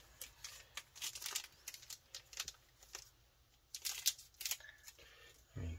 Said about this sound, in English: go ahead and cut it for you.